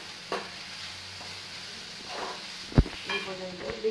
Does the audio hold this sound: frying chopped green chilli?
yes